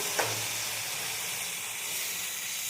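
Mutton and potatoes frying in oil make a soft, continuous hiss with a faint stir or clink right at the start. The sound stays gentle and even throughout, with no talk.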